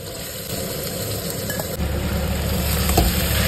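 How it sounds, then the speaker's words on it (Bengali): Potatoes frying in oil for a poppy-seed dish give a loud, constant close-up sizzle that grows slightly fuller partway through, with faint utensil touches and no speech. "তেলে আলুগুলো ছেড়ে দিলাম পোস্ত হওয়ার জন্য"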